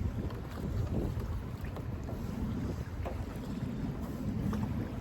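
Wind buffets the microphone while kayaking on open water in the Houston area, a steady low roar with gusty swells and faint water sloshing, no talking.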